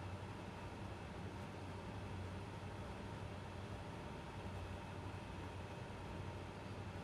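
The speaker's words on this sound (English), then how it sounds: "Getting the train coming up that hill." A train labouring up a hill on a steep climb, heard as a steady, continuous low rumble with engine drone that holds at an even level throughout, with no talk over it.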